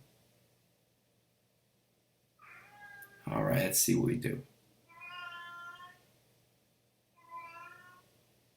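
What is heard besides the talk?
cat meowing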